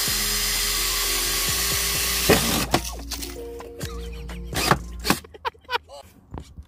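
High-pitched whine of a drill boring out rivets on a Fiat Multipla, running steadily at first, then breaking into short bursts and stops as the bit catches.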